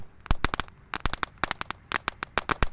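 An air mancur fountain firework burns with rapid, irregular sharp crackles and pops, near and fairly quiet, sputtering in quick bursts.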